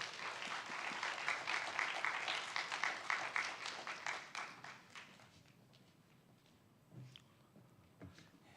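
Audience in a Korean church dawn prayer service claps to welcome a preacher to the front, a moderate burst that fades after about five seconds into near silence with a few scattered taps.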